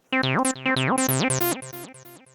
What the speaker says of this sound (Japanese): サイレンス1ってこうやって起動した時のデフォルトの音が